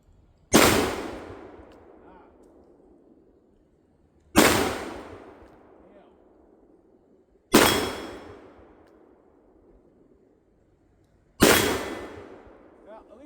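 A Taurus Judge revolver fires 1/5 ounce slugs at steel targets outdoors, four loud separate shots spaced about three to four seconds apart, each a sharp crack followed by a long fading echo.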